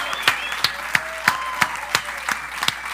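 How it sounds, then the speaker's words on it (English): Slow, evenly spaced single claps, roughly three per second, ring out close by over a faint hum during a Bacardi cocktail competition event, with no crowd swell behind them. "I think that deserves a round of applause"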